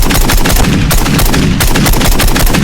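Rapid automatic gunfire in a Call of Duty video game, loud and close, with shots rattling in dense rhythmic bursts throughout the short stretch.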